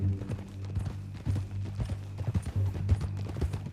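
Horse hooves clip-clop in Red Dead Redemption 2, a steady close rhythm of hoofbeats over a low ambient hum, with no talk.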